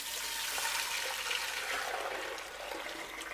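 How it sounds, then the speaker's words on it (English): Thick Cameroonian yellow soup for achu pours from one pot back into another, a continuous, close, rushing liquid pour that stays steady and then eases slightly toward the end. "Re-pour it into the first pot."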